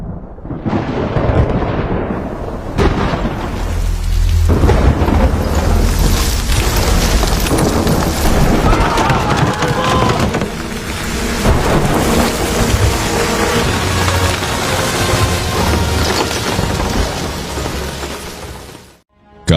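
A loud biblical thunderstorm over Egypt with hail and lightning: heavy, continuous rain and hail noise with deep thunder rumbles rolling throughout, sustained and dense until fading at the end.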